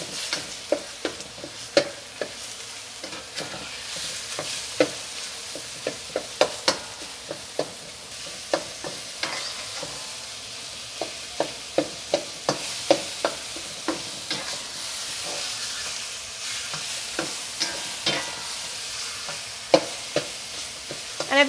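Chicken being stir-fried and broken up in a wok, a continuous loud sizzle punctuated by frequent sharp clacks and scrapes of the spatula against the pan, close up and without talk.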